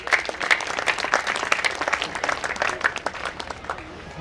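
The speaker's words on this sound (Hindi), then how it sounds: "जोरदार तालियां बजाएं।" An audience at a poetry function applauds a guest speaker, dense clapping from a crowd filling the room continuously, fairly loud and without voices.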